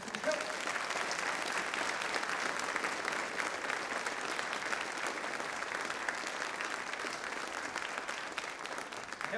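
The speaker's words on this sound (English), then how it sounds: "can we have another round of applause for that?" An audience at a Michigan Supreme Court community event at Southwestern Michigan College gives dense, continuous applause that stays at an even level for the whole stretch, with no voices standing out.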